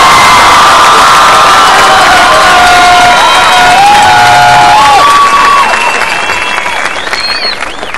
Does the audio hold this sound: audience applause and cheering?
yes